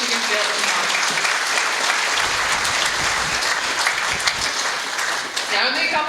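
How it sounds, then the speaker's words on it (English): A crowd at a live sports awards night applauds, a loud, sustained roar of clapping with some voices mixed in, fading slightly near the end. "Let's give her another round of applause"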